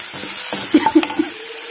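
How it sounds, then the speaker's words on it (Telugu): Plantain curry is stirred in a hot pan, with a soft sizzle underneath and a few close scraping and tapping strokes of the spoon clustered in the middle of a short burst. "ఇది కూడా ఒకసారి బాగా మిక్స్ చేద్దాం."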